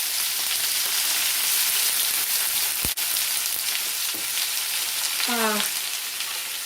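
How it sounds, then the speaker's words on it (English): Thawed, rinsed frozen pepper and onion blend sautés in a pan with a steady close sizzle. There is a brief clack partway through and a short voice-like chirp near the end. "Just going to saute these until they're soft."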